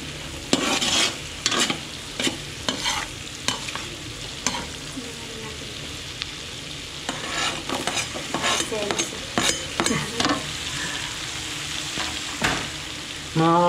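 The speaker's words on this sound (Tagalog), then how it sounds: "Eh, nagigisa na ngayon." Seafood sautéed in buttered garlic in a pan, close and steady sizzling with repeated sharp scraping and stirring strokes of a utensil across the cookware.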